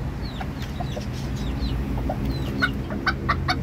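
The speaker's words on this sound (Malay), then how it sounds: "Ini pun ada sepasang lagi ayam hutan." A pair of Java junglefowl gives scattered clucks and short, sharp calls close by, over a steady low background hum, with no voices.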